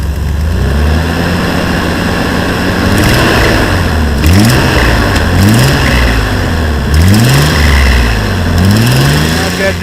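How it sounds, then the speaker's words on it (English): A 1991 Nissan Pathfinder engine, chugging with a disconnected brake booster line, gets a few short throttle blips, each rev climbing and falling over a steady rough idle, close and loud, with faint talk in the background. "A couple little revs."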